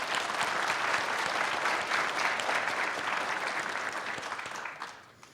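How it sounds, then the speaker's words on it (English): Audience applauding nursing faculty at a nurse pinning ceremony: sustained, dense clapping from a large crowd fills the hall at steady loudness, then tapers off near the end. "Let's give our nursing faculty members a round of applause."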